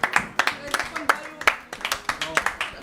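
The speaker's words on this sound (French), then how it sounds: "on peut quand même l'applaudir" A few people clapping during a streamed general-knowledge quiz show, sparse uneven handclaps in quick succession, close and dry, with a voice talking over them.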